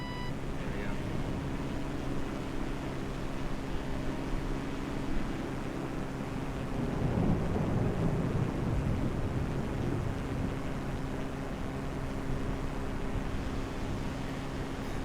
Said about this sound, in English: here they got the winds, and it's pushing me down